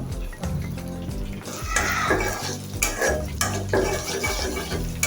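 Onion and chili hitting hot oil in a pan for a fish bhuna, with metal utensil scrapes and clatters over a busy sizzle, close and moderately loud, no talk.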